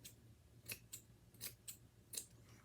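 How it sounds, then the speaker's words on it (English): Fabric scissors snipping through bed sheet fabric, a handful of crisp close-up cuts in an uneven rhythm, quiet and alone. "you want to use your fabric scissors for stuff like this"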